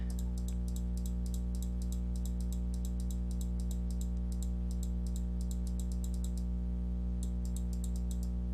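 Rapid bursts of computer clicking come in quick, regular clusters with short pauses between them, sitting close and clear over a steady low electrical hum.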